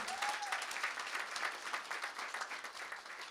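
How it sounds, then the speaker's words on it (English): A round of applause fills the room at a charity gala dinner, dense steady clapping from many guests throughout, fairly distant and even, with no one speaking over it. "we should all put a big round of applause for Deborah"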